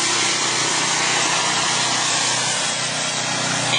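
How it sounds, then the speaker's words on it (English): A snowblower pushes through heavy snow during a 2008 blizzard, used as a plow, giving a steady, loud, close engine drone with grinding, scraping texture and no talk. "he's using the snowblower as a plow and just plowing it out of the way"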